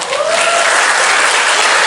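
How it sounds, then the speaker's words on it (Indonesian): Steady, loud applause from an audience at an Indonesian talk or forum, a dense wash of clapping hands that holds evenly throughout and cuts off abruptly at the end. "tepuk tangannya dong."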